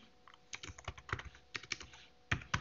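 Close, crisp keystrokes on a computer keyboard while coding a Linux kernel module, arriving in irregular bursts of rapid clicks with short pauses between, with no speech.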